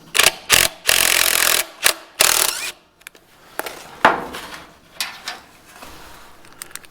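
A Torx head screw is backed out of an aluminum floor with a power driver, giving several short loud whirring bursts followed by scattered metallic clicks and taps, close by.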